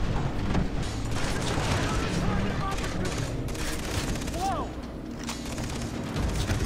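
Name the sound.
gunfire in the video game Far Cry 3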